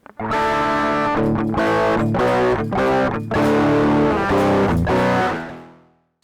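An electric guitar played through a Donner Dark Mouse mini distortion pedal rings out in a series of strummed distorted chords, each struck with a short gap between, loud and close, then fading out at the end.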